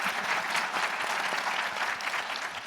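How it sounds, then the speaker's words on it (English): An audience at a mental health and substance use panel applauds in a steady, dense burst of clapping that fills the room for a few seconds. "please give them a round of applause"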